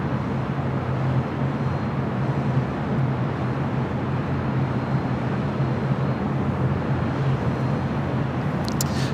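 A jet airliner taxiing on a taxiway at LAX, heard as a steady, loud low engine rumble and broadband roar that holds evenly throughout with no talk.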